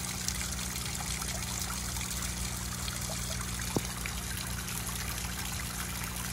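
The louder of two garden pond waterfalls in a backyard water garden trickles and splashes steadily, heard up close from about two feet away as an unbroken, even wash of water with no talk.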